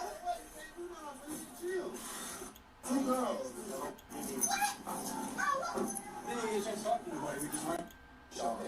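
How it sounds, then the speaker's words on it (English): A dog barks and whimpers with small yips, close by and fairly loud in bursts, while several people talk and shout over it throughout. "That's my dog."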